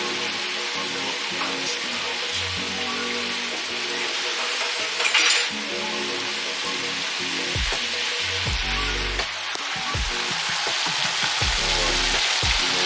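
Food frying in a pan sends up a loud, steady sizzle, joined now and then by close clinks of a utensil against the pan and brief thumps.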